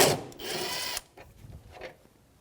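A socket wrench works loose a 10mm bolt holding a bumper bracket on a 2009-2014 Nissan Maxima, a steady whirring ratchet burst for about a second, then faint scattered clicks and handling sounds.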